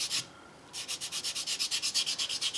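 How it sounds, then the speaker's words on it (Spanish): A polishing file buffs across a nail surface, held at a steep angle, while a nail set is repaired: one short scrape, a brief pause, then a quick steady run of about fifteen rhythmic, close, soft rubbing strokes with no talking. "vamos a pulir con la lima bien inclinada toda esta zona"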